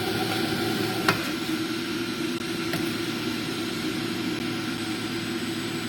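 A Breville 800JEXL centrifugal juicer runs at full speed, giving a steady, loud, jet-like whir with a broad hiss and a low hum, and one sharp click about a second in.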